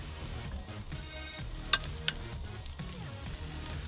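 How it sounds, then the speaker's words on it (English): Ribeye steaks laid straight onto very hot charcoal give a steady, moderately quiet sizzle and crackle, with two sharp pops standing out midway. "we get our steaks and we put them straight on top of the charcoal"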